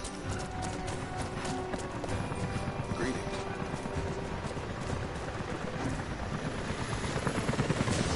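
Helicopters approach in a video game, heard as a loud, continuous, rapid rotor chop over dense background noise for several seconds, swelling slightly toward the end.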